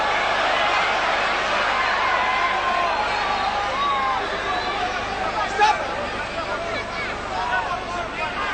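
Indoor boxing crowd at the 1988 Seoul Olympics roaring steadily in support of Italian boxer Andrea Mannai during his bout, a dense continuous hubbub of cheers and chatter with a brief louder swell near the end.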